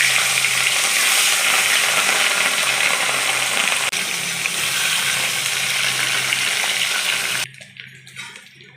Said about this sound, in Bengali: তেলটা গরম হয়ে গেছে, এবার আমি মাছগুলো একটা একটা করে দিয়ে দেবো।